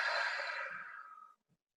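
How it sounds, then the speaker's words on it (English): A single deep, audible breath, airy and close, taken during a relaxation exercise and fading out within about a second and a half, followed by quiet. "take a nice deep breath in"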